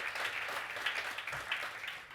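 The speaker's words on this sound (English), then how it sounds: "I think we deserve to give that a round of applause." Audience at a World Malaria Day event giving a round of applause, a soft, fairly distant wash of many hands clapping that holds steady for a couple of seconds with no talking.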